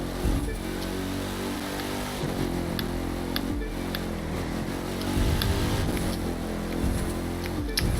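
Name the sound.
car engine sound in the video game The Crew 2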